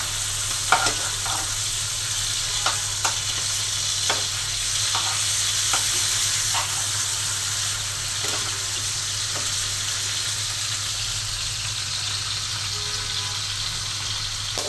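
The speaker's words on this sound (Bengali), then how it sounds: "মাছটা হালকা করে ভেজে নেব।" Fish lightly frying in a pan, an even sizzle and hiss throughout with a low steady hum beneath and scattered spatula clicks, busier early on and calmer later.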